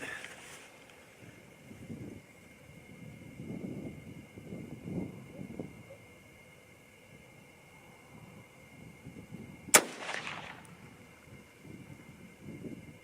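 A single sharp rifle shot cracks out near the ten-second mark at an outdoor range, a 6.8 SPC cartridge fired against a low, steady background of wind and murmur.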